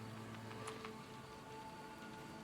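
Steady rain falls in the Sherlock Holmes: The Awakened video game, a soft continuous patter with faint drip accents, even in level throughout and without voices.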